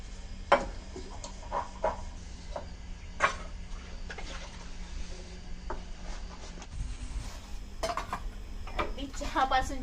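Dishes, pots and utensils clatter and clink in a home kitchen, with scattered sharp knocks and scraping against a steady low background hum, fairly close and moderately loud, with brief mumbled voices in the background.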